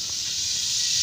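Oil hits a hot cooking pot with a steady, bright sizzling hiss lasting about a second, close and fairly loud, with no voices over it.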